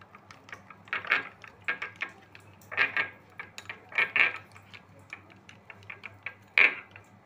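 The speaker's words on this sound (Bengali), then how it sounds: "এই দিয়ে দইটাকে ভালো করে ফেটিয়ে রেখে দেবো।" Yogurt and sugar are whisked in a bowl for a fish curry. Quick, irregular clinking and tapping strokes repeat throughout, close and fairly clear over a low steady hum.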